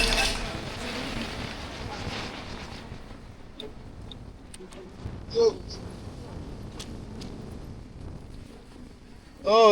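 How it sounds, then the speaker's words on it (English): Breezy wind buffets the open outdoor deck of a Norwegian cruise ship, a steady broadband rush with microphone wind noise, broken by a few brief knocks and a louder gust near the end, with no talk. "Oh, it's breezy."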